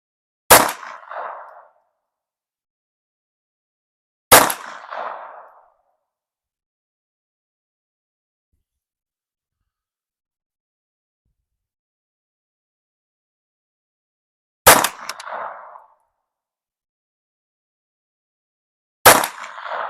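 Four sharp, loud single shots from a Ruger Mark II pistol, spaced irregularly several seconds apart, each with a short ringing decay and silence between, with no talk.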